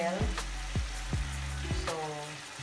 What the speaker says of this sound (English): So now it's frying well